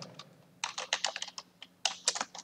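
Quick bursts of keystrokes as a name is typed on a computer keyboard during Windows Task Scheduler setup, several clustered taps with brief pauses, close and fairly quiet, with no talking.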